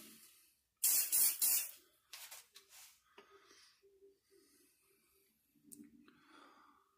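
A can of CA glue activator sprays in a loud, short hiss onto a mother-of-pearl inlay set in an amboyna burl grenade, followed by softer intermittent hisses and quiet workshop handling noises.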